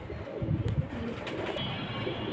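Pigeons coo softly in a loft, a few low, throaty rolling calls close by and fairly quiet, with no one talking.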